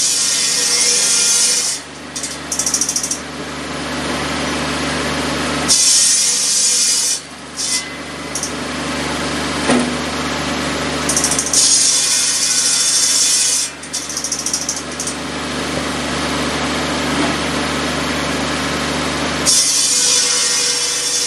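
A buzz saw driven at full 540 RPM by a small Kubota tractor cuts wood, with repeated loud rasping bursts of the blade biting in between stretches of the saw spinning freely.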